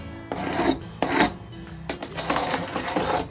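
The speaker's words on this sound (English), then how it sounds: "It doesn't take much scraping, it's kind of falling off." Old glazing putty being scraped off an antique wooden window sash, giving loud, close, rasping strokes that repeat in an uneven rhythm and run almost continuously.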